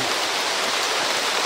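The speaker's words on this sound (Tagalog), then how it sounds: "ulan na naman." Heavy rain pours steadily near a well, a dense, continuous broadband hiss with no breaks and no voices for the whole stretch.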